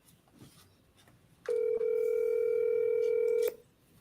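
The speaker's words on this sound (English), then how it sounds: "I hear a phone ringing." A phone rings with one steady electronic tone lasting about two seconds after a brief break at the start, loud and close, then cutting off into quiet room sound.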